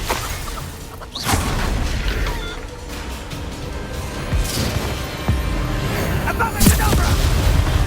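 Bombarda explosion spell cast in the Hogwarts Legacy video game, a series of loud booming blasts and crashes amid continuous battle noise, with a voice speaking over the fighting.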